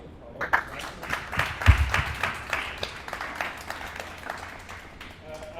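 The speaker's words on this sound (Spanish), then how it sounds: "Aplausos, por favor." Scattered clapping from a church congregation during a Saturday question forum, uneven and moderately loud, with a few voices mixed in.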